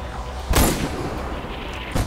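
Two heavy booming mortar shots in the video game Far Cry 4, about a second and a half apart, over a low rumbling background.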